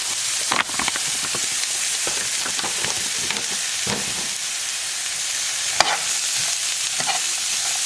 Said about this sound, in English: I'm adding in the beefless beef.